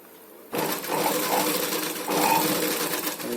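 Sewing machine stitching fabric, starting abruptly after a quiet moment and running in a steady loud whir, with a brief dip midway before continuing.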